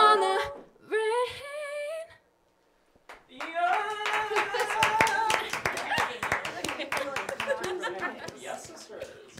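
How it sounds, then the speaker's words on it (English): Applause of a small audience, many hands clapping in a dense, steady patter that follows a brief musical passage and a short pause, with scattered laughter and chatter mixed in. "Round of applause for me."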